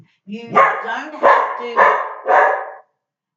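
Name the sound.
dog barking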